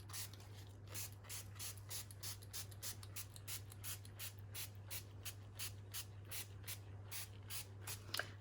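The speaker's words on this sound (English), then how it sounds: "then we'll spray it with some water" A handheld spray bottle squirts water onto fabric sprinkled with coffee grounds, giving a long run of quick, evenly spaced hissing bursts up close over a low steady hum.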